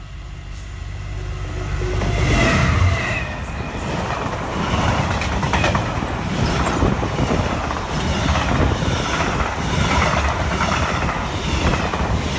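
A diesel train passes a level crossing at Barnby Lane. The loud, close rumble of wheels carries a rhythmic clatter and some squeal, rising after a couple of seconds and staying heavy throughout.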